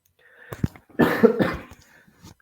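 A person coughs, a short hack followed by a harsher, longer fit of coughing, close and fairly loud.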